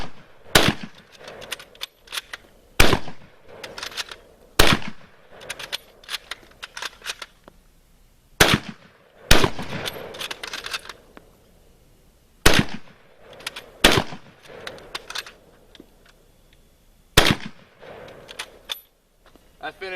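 Type 99 Arisaka 7.7mm rifles fire at pumpkins outdoors in loud, sharp cracks spaced a few seconds apart, with occasional near-overlapping shots and the clatter of bolt cycling between them.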